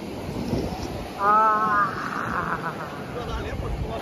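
Sea waves wash steadily at a beach in Malvan while someone wades through the water, a broad rushing noise with wind buffeting the microphone and a brief voice rising over it partway through.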